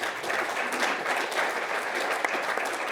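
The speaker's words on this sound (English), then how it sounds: "Please put your hands together for our panelists one more time." A crowd at a wildfire preparation panel event claps for the panelists, a full, even burst of applause that stays steady and moderately loud throughout.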